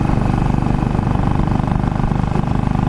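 A Royal Enfield motorcycle engine drones steadily and loudly while the bike is ridden. The thumping pulse is close and continuous, with rushing wind noise layered over it.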